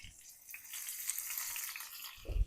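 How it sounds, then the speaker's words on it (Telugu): Green chillies fry in hot oil for a fish fry, a soft continuous sizzling hiss with a brief low knock near the end, quiet and without talk. "నూనె వేడైంది కదా ఇప్పుడు దీనిలో మనం కొన్ని పచ్చిమిరపకాయలు వేసుకుందాం"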